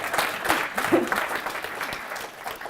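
An audience claps together at an indigenous art and culture event in Eugene, a dense burst of applause at close range that carries through the short moment, with faint voices mixed in.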